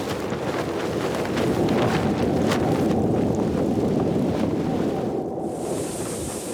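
Strong wind gusting to around 90 km/h roars continuously, buffeting the microphone with a heavy, rushing low rumble and hiss that never lets up.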